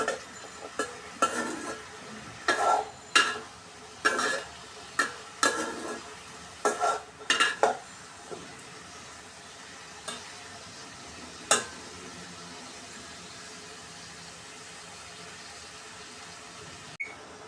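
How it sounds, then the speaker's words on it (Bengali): Lati stems and shrimp curry, heavy with garlic, are stirred and fried in a pan. A utensil scrapes in a quick series of close bursts over a soft sizzle, then only a few sparse strokes follow as it quiets. "নেড়ে আর একটু কষিয়ে নিব।"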